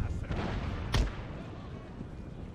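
A single booming shot in an Empire: Total War battle, cannon or musket fire, rises sharply about a second in over a low rumbling battlefield background.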